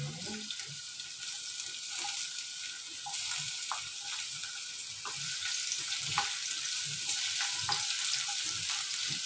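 Garlic hits hot cooking oil in a pan for adobong talong, a steady soft sizzle and crackle with faint stirring clinks, gradually growing a little louder.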